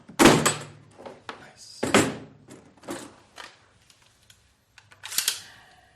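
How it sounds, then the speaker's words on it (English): A plastic storage box with real latches is handled and snapped shut, giving a few sharp clacks and thunks spaced over several seconds, close and fairly loud, with quieter rattles between. "always keep the boxes when they have real latches, because it's way more satisfying"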